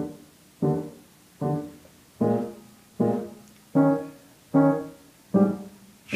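Eight evenly spaced piano chords in the low-middle register, struck on a steady pulse, each ringing briefly before the next, with no voices.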